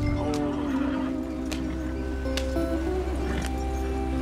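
A horse in Red Dead Redemption 2 whinnies with a wavering tonal cry over a steady low background rumble, with a few soft clicks scattered through.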